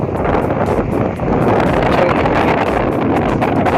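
Steady, loud wind roars across the microphone at a wide beach near Antarvedi where the Godavari meets the sea, with a broad surf-like rush continuing unbroken and no voices.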